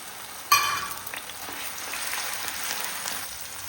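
Onion paste dropped into hot oil and ghee in a pan just used for frying paneer bursts into a sudden loud sizzle, then settles into a steady, close hiss of frying.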